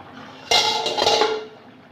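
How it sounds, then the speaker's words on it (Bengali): A metal lid is taken off a pot of fish curry cooked with kohlrabi, giving one sharp close clank followed by a brief ringing scrape that fades within a second, no voices. "ঢাকনাটা খুলে নেব"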